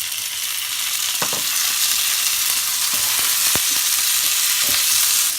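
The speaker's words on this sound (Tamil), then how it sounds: "தக்காளி நல்லா வதங்கி வரட்டும்." Tomatoes fry with onions for a spicy fish curry, giving a loud, dense, continuous sizzle with a few sharp pops and stirring scrapes scattered throughout, no one speaking.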